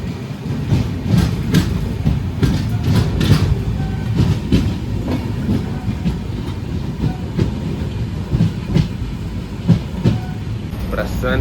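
Shraddha Sethu SF Express passenger train running toward Rameswaram, with steady loud rumble and rhythmic clickety-clack of carriage wheels on rails throughout, heard from inside the coach with occasional faint voices.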